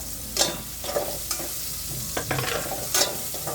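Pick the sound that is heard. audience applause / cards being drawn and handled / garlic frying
garlic frying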